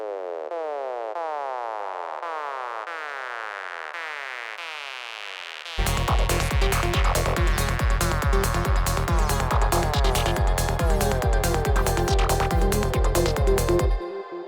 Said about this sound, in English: Today we're gonna do something really basic with squelches